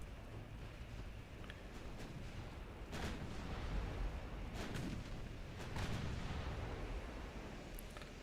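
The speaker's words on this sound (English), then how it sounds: "the cruisers will fire with their main guns" Warship main guns firing in a naval battle in Ultimate Admiral Dreadnoughts, several heavy booming salvos rising over a constant low rumble of sea and battle noise, no voices.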